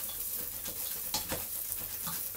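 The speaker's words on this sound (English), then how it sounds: "I'm adding a little olive oil there." Olive oil and lard sizzle and fry in a pot while beef stew in the style of boeuf bourguignon is started, a steady close crackling hiss with a few soft stirring scrapes and no talk.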